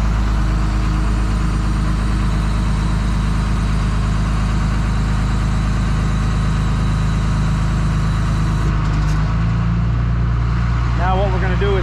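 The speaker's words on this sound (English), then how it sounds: "you can tilt the bed down" Rollback tow truck engine idling steadily with a low, constant rumble as the bed is tilted down, a slight shift in tone near the end and voices faintly present.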